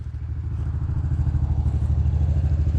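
A motorcycle engine idles and pulses steadily at close range as the rider works the throttle, a low rumbling drone with no talk over it.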